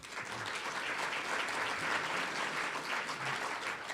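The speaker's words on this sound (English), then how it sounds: "let's give them a round of applause as well" Sustained applause from a Rotary club meeting audience, steady dense clapping filling the room at even loudness throughout.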